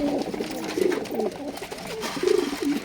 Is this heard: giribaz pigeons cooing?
yes